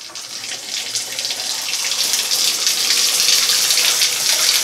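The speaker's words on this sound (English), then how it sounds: "So let's do less water flow, and let's see if what that looks like in the shower." A shower fed by an undersized Ecosmart Eco 11 electric tankless heater runs at reduced flow, producing a steady, close hiss of spraying water that holds constant without any voices.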